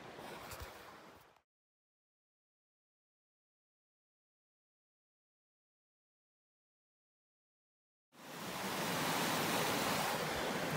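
River water at a gold-prospecting spot rushes in a steady broadband roar, cutting off after about a second into near silence before returning loud and constant after eight seconds.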